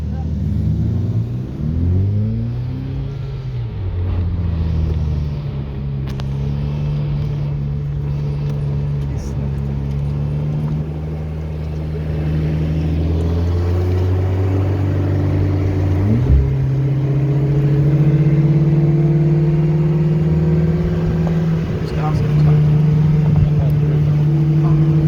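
A Ferrari F8 Tributo and a tuned BMW 120i turbo race, heard as a loud, close engine note climbing in pitch through repeated gear changes and pulling hard throughout.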